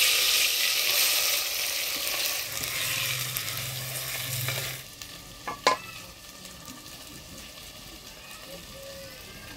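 Marinated meat drops into hot oil with whole spices (dried chillies, cinnamon, cardamom, cloves, bay leaves). A loud, dense sizzle sounds for several seconds, then dies down to a quieter fry with a few sharp stirring clacks.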